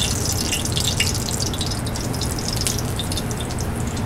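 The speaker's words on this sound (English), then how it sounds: "So we're gonna take the zucchini flowers and we're gonna put them in the oil." Stuffed zucchini blossoms hit smoking-hot oil in a pan, giving a steady, loud, hissing sizzle that holds without a break from start to finish, with no voices.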